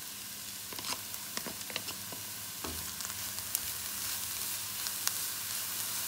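Chopped onion sizzles quietly in a pan as carrots are tipped in, with soft clatters and scrapes of stirring over the steady frying hiss.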